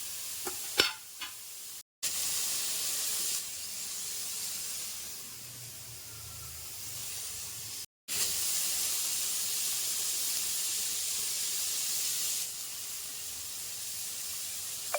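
Chopped vegetables frying in a pan with chicken masala, a continuous soft sizzle with scraping stirring strokes, brief breaks in the sound, and no voices.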